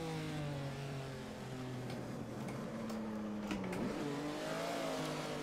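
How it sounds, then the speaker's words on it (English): A Ferrari engine drones steadily at high revs as the car drifts through a long sweeping bend in Assetto Corsa, with pitch shifting under load and faint tire and ticking noises over a constant, fairly loud tone. "Doing a bit of drifting through that long sweeper."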